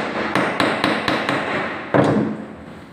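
Hammer blows drive nails into wood while building a timber sink-hole frame for a kitchen counter mould, six sharp knocks in an uneven rhythm, close and loud with no talking.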